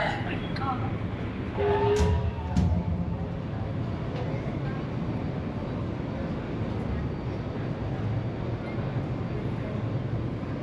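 Steady low rumble of a heritage train ride in Old Sacramento, continuous rolling noise with a few brief clanks early on and voices chatting over it.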